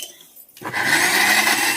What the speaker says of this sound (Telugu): నేనైతే కొబ్బరి అల్లం అయితే మిక్సీ పడుతున్నా